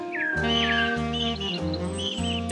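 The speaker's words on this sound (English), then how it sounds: "Oh, listen to the first birds of spring." Cartoon birds of early spring chirp and tweet in quick, bright, rising calls over a steady sustained musical backing, sounding close and clear.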